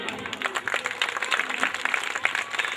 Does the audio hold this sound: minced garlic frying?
no